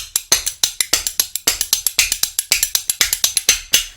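A pair of spoons played as percussion in a quick, steady rhythm, with sharp metallic clacks in repeating groups and an accent on the third beat, close and clear with no talking.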